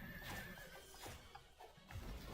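A horse in the video game Drakengard gives a short, clear neigh over steady game background noise, with no speech.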